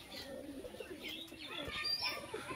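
Pigeons kept in a home coop, with chicks and white birds among them, coo softly and steadily at close range, mixed with faint chirps and an occasional wing flutter.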